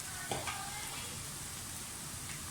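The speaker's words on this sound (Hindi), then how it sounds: "1 टेबलस्पून लहसुन का पेस्ट और 1 टेबलस्पून अदरक का पेस्ट डाल दें। अच्छी तरह से फ्राई करें।" Chopped onion with garlic and ginger paste frying in a pan for keema masala. It gives a quiet, continuous sizzle with a couple of soft stirring knocks early on.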